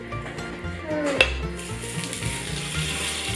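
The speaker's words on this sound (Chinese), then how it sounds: "先放皮的那面下去煎，旁边呢我们放虱目鱼香肠一起煎， 很香哦，滋不滋的" Milkfish belly set skin-side down in a hot oiled pan beside milkfish sausage gives a soft, steady sizzle, with a brief clank of cookware partway through.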